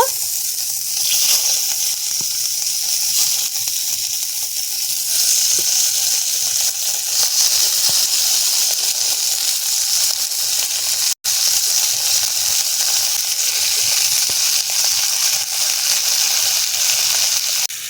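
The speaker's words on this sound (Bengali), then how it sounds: "মাছগুলো সব কড়াইয়ের মধ্যে দিয়ে দিয়েছি" Loud, continuous hiss of oil sizzling as fish fry in a kadai, constant throughout with one brief cut, no voices.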